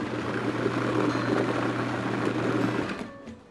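A food processor whirs steadily as it blends butternut squash, pasta and cheese for macaroni and cheese, a continuous close motor drone running about three seconds before cutting off, with no talk over it.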